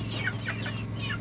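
Farmyard chickens clucking in short repeated calls over a steady low hum, fairly close and continuous, with no voices.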